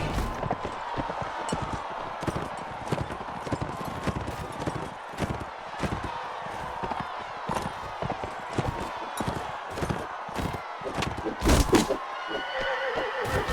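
A horse in the Mount & Blade Warband video game whinnies and gallops with rapid clip-clop hoofbeats, mixed with sharp clattering combat impacts throughout.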